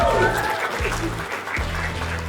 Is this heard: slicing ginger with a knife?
no